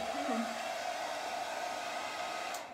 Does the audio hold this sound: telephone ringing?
no